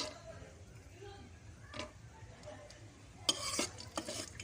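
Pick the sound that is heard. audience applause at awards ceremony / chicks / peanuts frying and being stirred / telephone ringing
peanuts frying and being stirred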